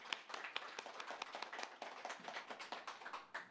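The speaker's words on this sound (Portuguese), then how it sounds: "Vamos aplaudir o Senhor Jesus?" A church congregation claps together in praise, a quiet, fairly distant patter of many hands with uneven rhythm, no voices prominent.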